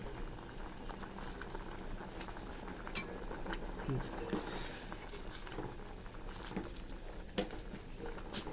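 Continuous bubbling and popping of Thai sour curry with green papaya and chicken breast boiling in a pot, with occasional clinks of utensils against the pot.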